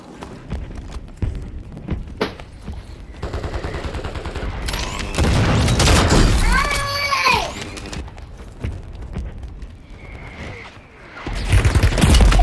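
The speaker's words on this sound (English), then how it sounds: "I'm taking fire!" Gunfire in a Call of Duty match on Rebirth Island, with repeated sharp shots and bursts over a busy mix of game sounds and shouting voices, growing louder toward the end.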